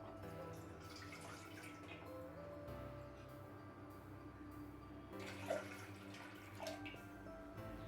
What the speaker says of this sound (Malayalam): ഇത് തയ്യാറാക്കാൻ വേണ്ടി ഒരു പാത്രത്തിലേക്ക് 2 കപ്പ് വെള്ളം ഒഴിച്ചു കൊടുക്കാം.